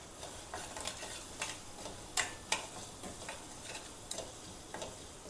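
Roasted chickpeas and spice powder being stirred into a pan: soft, continuous scraping broken by repeated light taps and a few sharper clicks of the spoon against the metal, close and unhurried, with no voices.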